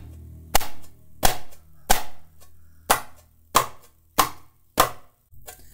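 Darbuka played with muted, dead-tone strokes, the hand damping the skin: seven sharp, dry hits at an even, unhurried pace, close and loud, with no talking.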